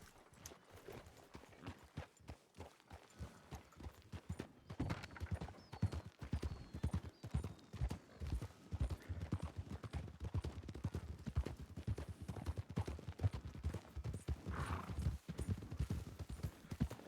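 A horse's hooves clip-clop steadily at a walking pace while riding in the video game Red Dead (WildRP), close and even throughout with no speech.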